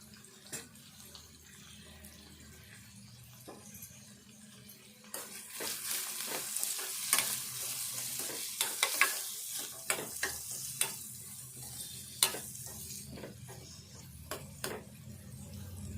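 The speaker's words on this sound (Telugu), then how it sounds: "ఉల్లిపాయ వేగాలి." Onions with turmeric fry in a pan, quiet at first, then a louder, crackling sizzle with irregular clicks and scrapes of stirring, close by.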